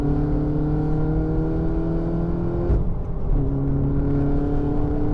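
A Peugeot 308 RC by Factory engine drives steadily with a loud, close, humming drone, dipping briefly mid-run as if shifting gear before resuming its even tone.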